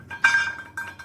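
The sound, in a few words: light object rattled in a bowl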